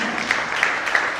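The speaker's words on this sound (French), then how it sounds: "Est-ce qu'on peut l'applaudir?" A theatre audience claps for a crew member, a steady wash of applause at moderate loudness with a few sharper individual claps standing out.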